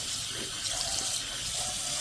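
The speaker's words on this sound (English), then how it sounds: "I get the water running as hot as I possibly can" Hot water runs hard from a kitchen faucet into a sink after the dishes are done, a steady close hiss and splash with no talking.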